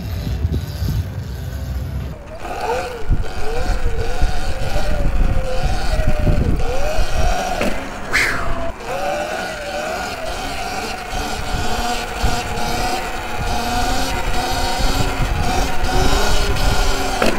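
Sur Ron electric dirt bike ridden over rough ground, its motor whine rising and falling through gentle throttle changes under steady wind and tyre rumble, continuous and close throughout.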